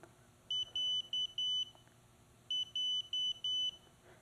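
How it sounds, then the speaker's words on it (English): An OmniPod PDM beeps once, then two evenly spaced groups of four high electronic beeps signal it is ready to transfer, clear and close against a quiet background hum. "You'll hear one beep, followed by two groups of four beeps."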